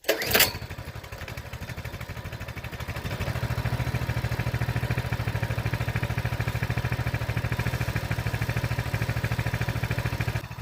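A Coleman BT200X minibike's 196cc engine runs steadily on its own after a sharp start, at first a lighter putter and then a louder, even, rapid chugging idle that carries on throughout.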